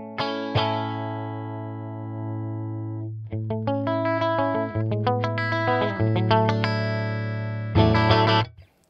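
An electric guitar runs through the JST ToneForge plugin with its compressor engaged, sounding a long sustained chord, then a run of bright, evenly compressed picked notes, and a final strummed chord that cuts off abruptly.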